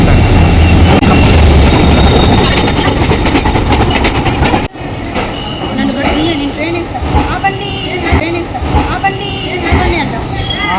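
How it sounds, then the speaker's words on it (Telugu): A train pulls into a station, rumbling and clattering steadily and loudly, with station crowd noise and voices in the background. "ఒక అర్ధగంట వెయిట్ చేసిన తర్వాత ఈ ట్రైన్ అయితే వచ్చింది"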